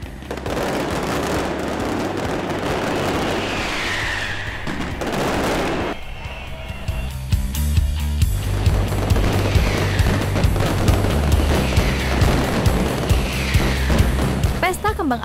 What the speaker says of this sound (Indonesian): Pesta kembang api Masleta merupakan rangkaian dari Festival Las Fallas.